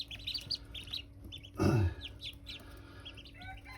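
A young farm duckling chirps in a series of high, thin peeps around a single louder, lower squawk from another fowl. The sounds are close and moderately loud, and one spoken word is heard briefly.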